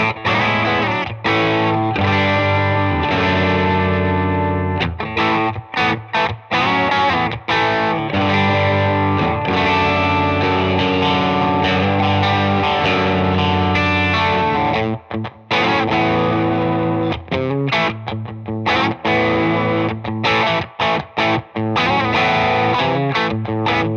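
Electric guitar on a Bunting Guitars Alice, bridge pickup, driven through a Paul Cochran Timmy V3 overdrive, playing loud, continuous distorted chords and riffs with brief choppy pauses, no talking.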